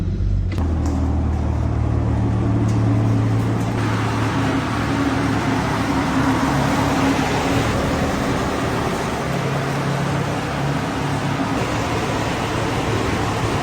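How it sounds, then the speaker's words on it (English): Holden car engine idling rough, a loud, close, continuous rumble with uneven low throb and broadband roar throughout, no one speaking over it. "It's running a bit rough actually."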